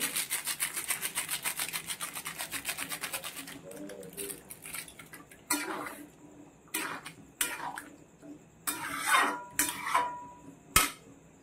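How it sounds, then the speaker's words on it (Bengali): Dried fenugreek leaves (kasuri methi) are crushed between the hands over a chana paneer dish, giving soft scratchy rubbing and crackling bursts in short, uneven clusters up close. "একটু গুঁড়ো করে নিলাম হাত দিয়ে আর ছড়িয়ে দিলাম"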